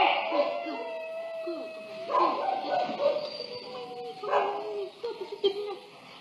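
A stiff, frightened dog whimpers and yips in repeated high, wavering whines, some drawn out and some short, close and moderately loud over several seconds.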